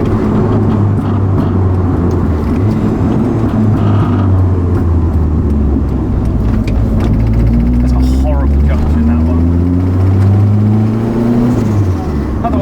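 A Toyota GT4 with a BEAMS turbo engine drives on a road, a loud, continuous in-car engine drone that climbs in pitch through several rising revs, with a driver talking excitedly over it.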